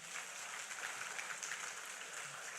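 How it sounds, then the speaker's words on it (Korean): A church congregation at a Korean Friday worship service applauds, a faint, even hiss of many distant hands clapping that holds steady for nearly three seconds without breaks. "우리 하나님께 박수로 영광 돌리겠습니다."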